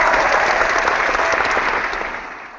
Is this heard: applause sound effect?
yes